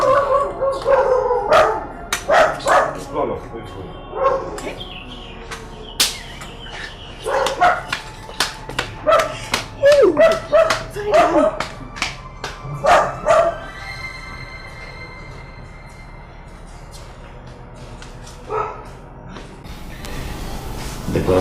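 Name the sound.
dog barking in a palace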